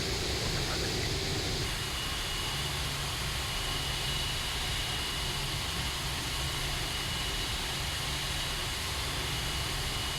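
Steady broadband roar of an Aerosoft A330 airliner's jet engines on the runway at takeoff in a flight simulator, loud and constant with a hissing, whining upper layer that shifts slightly early on.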